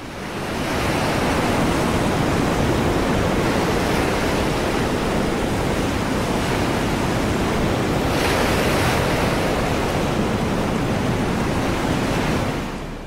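Rough, stormy sea crashes in a continuous loud roar of surf and wind-blown spray, dense and unbroken, with one stronger surge partway through and no voices.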